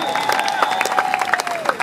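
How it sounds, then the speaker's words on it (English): An audience applauds at an outdoor jazz jam at MetroTech, a dense, lively burst of clapping close by, with faint chatter and a sustained tone underneath. "Please give one more round of applause for Michael King on the keyboard."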